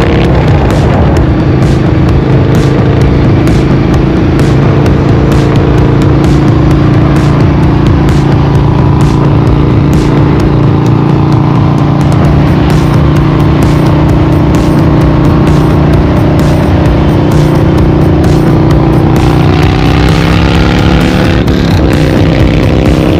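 A Harley-Davidson Road Glide performance bagger motorcycle riding along, its engine rumbling loud and steady throughout with rising and falling revs and wind rush, no voices.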